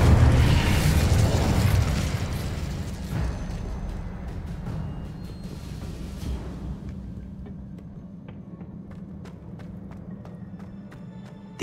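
A fire spell cast in Hogwarts Legacy erupts as a loud burst of roaring flame that slowly fades and thins out over several seconds, with small crackles trailing at the end.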